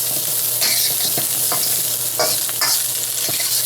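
Spam sizzles loudly as it fries and browns in a pan, with a steady close crackle and occasional scraping stirs of a utensil against the pan.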